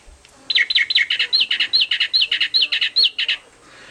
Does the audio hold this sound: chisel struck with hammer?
no